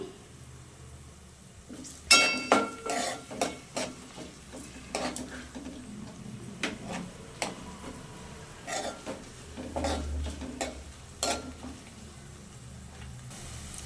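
Whole spices (cinnamon, cloves and cardamom) tossed into a frying pan with reddened onions for chicken palak biryani, then stirred: a run of clattering spoon scrapes and knocks on the pan over a soft sizzle, close, no voices.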